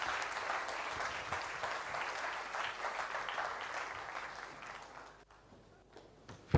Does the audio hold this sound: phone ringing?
no